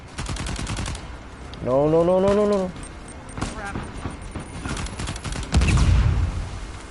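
Gunfire in the video game Uncharted 4: A Thief's End comes as sharp, scattered shots between bursts of rumbling action, while a player speaks and a brief tonal game sound rises partway through.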